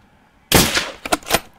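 A rifle fires during a wild boar hunt: one sharp, loud shot bursts out of near silence, followed by a few quicker, fainter cracks or echoes that fade away.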